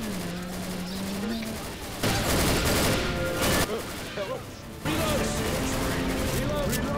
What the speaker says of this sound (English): Shoot the tank! Shoot it!